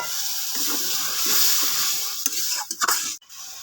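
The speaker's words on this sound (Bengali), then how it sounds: "ভাজা হয়ে গেছে, সামান্য পরিমাণ পানি দিয়ে দেব।" Water poured into a pan of frying onion, garlic and ginger paste, a sharp hiss and bubbling sizzle that swells, then stirring and a few pot clatters before it cuts off.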